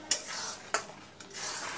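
Raw mango pickle bubbles in a pan as a spoon stirs it, with two sharp scrapes against the metal over a soft, steady simmering hiss.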